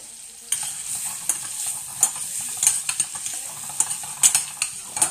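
Food sautés in a pan, a hissing sizzle starting abruptly and continuing with quick repeated stirring scrapes and taps, close and clear, no one talking.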